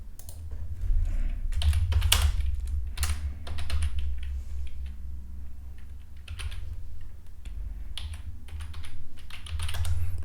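Code being typed on a computer keyboard for a React login page, close clicky keystrokes in quick bursts with short pauses between them.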